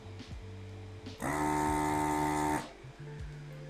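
Desoldering tool's vacuum pump kicks on for about a second and a half during a keyboard rebuild, a steady loud electric whir with a sharp start and stop, alone between quieter stretches.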